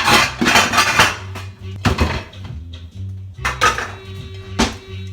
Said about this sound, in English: Take the lid, pop the lid on top of that son of a gun